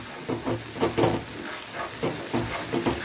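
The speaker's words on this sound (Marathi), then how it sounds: "थोडी जिऱ्याची पूड घालायची आणि चांगला तेल सुटेपर्यंत तेलामध्ये चांगला कळसू द्यायचा" A paste of spices and gourd, with cumin powder, sizzles in hot oil while being stirred, giving repeated scraping and frying bursts close up with no voices.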